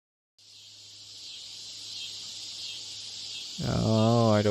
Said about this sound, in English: I don't like cicada.